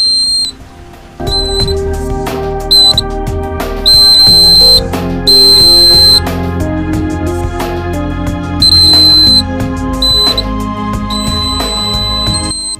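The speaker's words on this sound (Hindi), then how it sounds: "अब आप देखेंगे हमारा जो है अलार्म चालू हो चुका है।" A homemade water tank overflow alarm sounds as a bucket fills with water, playing a loud electronic chiming melody of bright repeated beeps and tones that stops and starts in short phrases, with no speech over it.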